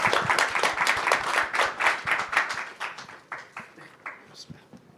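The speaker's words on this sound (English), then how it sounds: "So big round of applause for our speakers." An audience at a conference on SME finance in Asia and the Pacific gives a round of applause for the speakers, with moderately loud, rhythmic clapping that tapers off over about five seconds.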